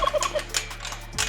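Farm turkeys let out a quick, warbling gobble during morning chores, brief and fairly close, followed by a few light clicks.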